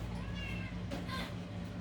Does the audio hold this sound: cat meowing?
yes